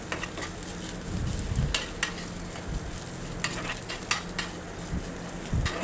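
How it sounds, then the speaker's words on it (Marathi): Soft, muffled thuds and squishing as boiled potatoes are pressed and mashed in a pot, with occasional clinks over a steady low background hiss. "स्टफिंगसाठी आपण बटाट्यांना स्मॅश करून घेऊया"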